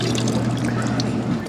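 Water draining from a Della portable washing machine into a small bucket, a steady close trickling and pouring over a low hum, with faint talk in the background.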